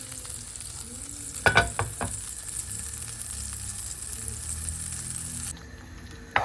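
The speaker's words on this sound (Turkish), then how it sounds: "ekmek kızartmaya devam edeceğim" Bread sizzles and fries in a pan at breakfast, a steady close crackle with a few sharp clatters of utensils near the start and a brief clink at the end.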